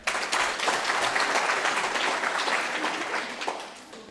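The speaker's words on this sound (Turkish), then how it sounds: "Kocaman bir alkış." A studio audience at a Turkish children's quiz show bursts into applause after a correct answer: thick, continuous clapping from start to finish with no talking.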